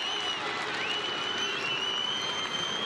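A dense stadium crowd roars and cheers without letup for a triple jumper at the Baku 2015 European Games, a loud, sustained wash of voices filling the arena with no break.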